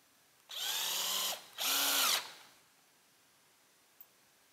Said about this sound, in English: So I'm going to put the screws in, but I'm going to use pressure treated,